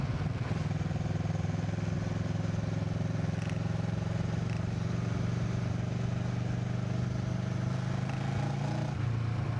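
A Kawasaki Versys 650 two-cylinder motorcycle runs through its gears with a continuous, even engine drone. The pitch barely shifts until a small change right at the end, and no voices are heard.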